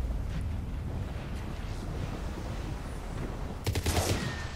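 Automatic weapon fire in the game Mass Effect 3 (Leviathan DLC, boat level), with a loud burst of rapid shots near the end over a steady rumbling background.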